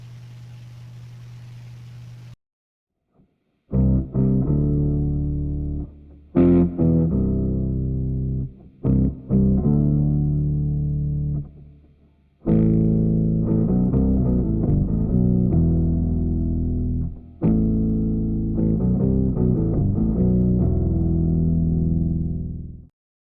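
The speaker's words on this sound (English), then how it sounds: "that gives you a fairly reasonable bass from a guitar" Guitar played through an Electro-Harmonix POG 2 octave pedal set for a bass tone: a series of deep, thick plucked notes and chords, each sustaining then cut off, played alone with short gaps between phrases.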